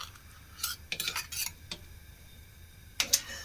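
Utensils scrape and tap against a dish while mashed potato is spread over a fish pie, in a few short clusters of clinks and scrapes against a quiet room.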